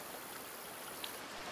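River water flowing steadily in a video game setting, a soft, even wash of faint, continuous rushing with no distinct splashes.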